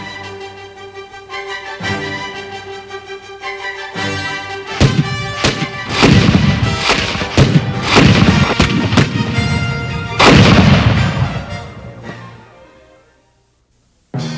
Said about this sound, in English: the Americans massed their greatest concentration of artillery, now within point-blank range of the British defenses